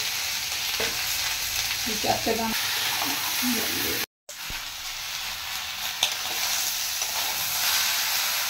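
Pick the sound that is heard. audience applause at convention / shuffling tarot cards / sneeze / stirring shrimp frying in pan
stirring shrimp frying in pan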